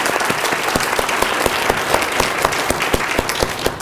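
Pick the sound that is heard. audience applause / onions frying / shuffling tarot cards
audience applause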